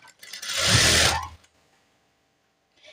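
A sewing machine stitches a seam on a nursing uniform top in one steady burst lasting about a second, then falls quiet, with a faint brief rustle at the end.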